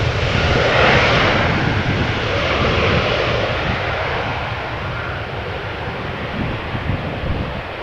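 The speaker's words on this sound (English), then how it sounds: "you might pick up on some engine sounds" Airplane engines at Amsterdam Schiphol Airport roar loud and close, a broad steady rush with wind buffeting that gradually eases over several seconds.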